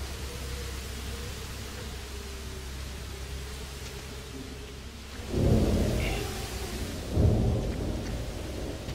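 A thunderstorm in the park-building game Jurassic Park Operation Genesis brings steady rain hiss and then two deep, loud rumbling thunder rolls, with no voices.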